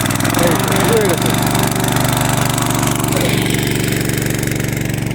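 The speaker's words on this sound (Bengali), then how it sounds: "এটা হচ্ছে পেট্রোল পাম্প, এই সিস্টেমে সেট করা হয়েছে।" A petrol-engine irrigation pump runs nearby while pumping water onto a field, giving a steady, loud mechanical chug throughout, with a few brief higher sounds near the start.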